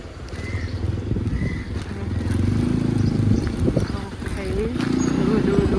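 A motorcycle engine drones steadily up close while people talk over it, the low rumble rising and dipping slightly as the ride continues.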